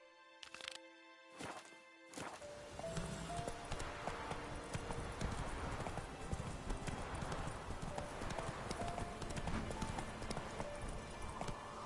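A horse named Roach running, its hooves clip-clopping in a quick, steady rhythm that starts after a couple of seconds of tonal sounds and continues without letup.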